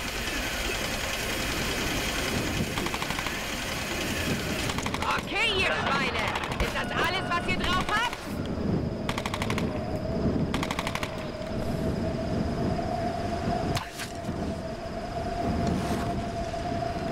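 Gunfire in the game Tomb Raider (2013): rapid clattering bursts between about five and eight seconds over busy game noise, followed by sharper isolated shots, with a voice present in the mix.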